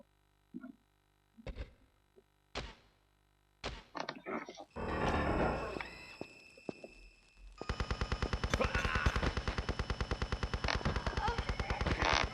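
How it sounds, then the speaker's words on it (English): Sustained machine gun fire in Tomb Raider Chronicles: scattered single shots and bursts build into a loud, rapid, continuous rattle of automatic gunfire lasting several seconds, with no talk over it. "the machine gun killed me"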